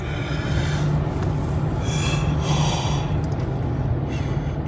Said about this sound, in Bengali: একটার পর একটা ট্রেন পেরিয়েই যাচ্ছে